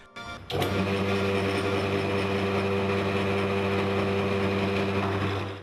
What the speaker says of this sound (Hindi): अब मोटर को स्टार्ट करके घूमते हुए बेरिंग को मेटल बिलेट से दबाएंगे।